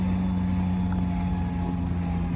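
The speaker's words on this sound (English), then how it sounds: "Just tickling the throttle there, and she's going up lovely." Triumph Roadster engine running under light throttle, a steady droning hum with a strong low tone and rushing wind noise, close and continuous with no talk.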